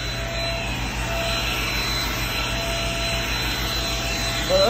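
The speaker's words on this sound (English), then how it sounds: "Oh, Ryder, you'd love this vacuum." Vacuum cleaner fitted with an attachment, cleaning inside a bus: a loud, steady motor whine with a low hum underneath, running continuously without talk.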